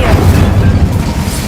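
The Incendio fire spell is cast in a Harry Potter video game, a short, heavy, booming whoosh of flame that rumbles low and loud for a moment, alone with no talk.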